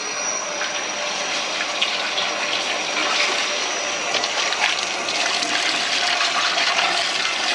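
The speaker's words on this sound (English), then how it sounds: "he's going to fill it up with water" Water runs in a steady rushing stream from a hose attachment on a kitchen sink into a bucket for homebrewing beer, a continuous close splash with no talking.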